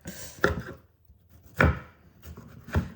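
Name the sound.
knife chopping vegetables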